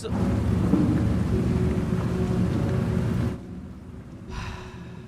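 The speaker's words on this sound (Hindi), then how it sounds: "हाँ, बहुत तगड़ी बारिश हो रही है." Heavy rain pours down in a dense, loud roar with thunder rumbling underneath in the Tales Beyond the Tomb game, then the storm drops away abruptly near the end, leaving a quieter wash.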